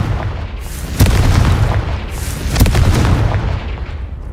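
Confringo blasting spell explosions in Hogwarts Legacy, two loud booming blasts about a second and a half apart over a rumbling low background.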